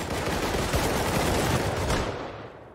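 Sustained automatic gunfire in the survival shooter Rust, a dense, loud rattle of rapid shots lasting a couple of seconds before cutting off, with no talking over it.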